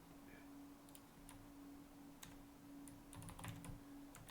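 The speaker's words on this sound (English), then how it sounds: "I hate typing in this thing" Quiet typing on a computer keyboard: scattered single key clicks in an irregular rhythm, bunching into a quicker burst near the end, faint and close against a low steady hum, with no talk.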